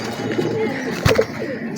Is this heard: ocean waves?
no